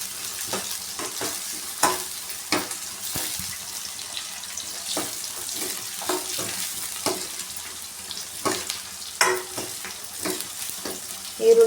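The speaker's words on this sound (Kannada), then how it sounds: "ಈರುಳ್ಳಿ ಸ್ವಲ್ಪ ಚೆನ್ನಾಗಿ ಫ್ರೈ ಮಾಡ್ಕೊಳ್ಳೋಣ." Onion and garlic fry in a pan for khichdi. A faint, continuous sizzle is broken by scattered scrapes and taps of stirring, with no talking.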